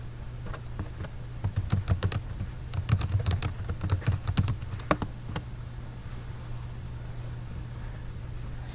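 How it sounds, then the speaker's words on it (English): Computer keyboard keys clatter in quick irregular bursts, close and fairly soft, then pause and trail into quiet room hiss near the end. "So he's going to type in the question"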